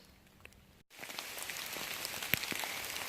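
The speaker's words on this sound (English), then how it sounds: "It's raining." Rain falls on the Appalachian Trail in Pennsylvania: a faint pattering at first, then after a brief gap a denser, steady patter of drops on nearby surfaces that grows slightly heavier, without speech.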